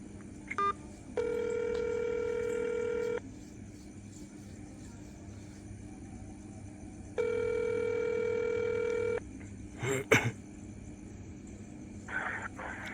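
Telephone keypad tones on a call, heard after an automated phone menu: two sustained electronic tone bursts of about two seconds each, separated by quiet line hiss, followed by a few short clicks and knocks.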